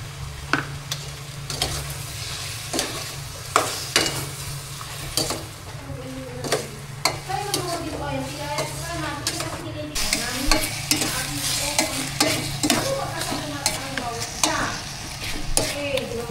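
Chicken sautéing with pepper and salt in a pan, a steady low sizzle underneath repeated scraping and stirring strokes of a utensil against the pan, with a faint voice in the background.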